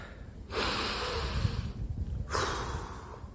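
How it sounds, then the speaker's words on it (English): A person draws two deep, audible breaths close to the microphone, a long sharp inhale and then a shorter one after a brief pause, with no speech. "I'll take a breath with you."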